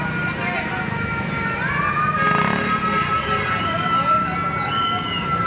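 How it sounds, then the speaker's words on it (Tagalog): A fire truck siren wails with rising and falling tones at a fire scene in Zapote 2, Bacoor, Cavite, heard at moderate distance beneath steady crowd and street noise while people talk nearby. "Yun, may fire truck na."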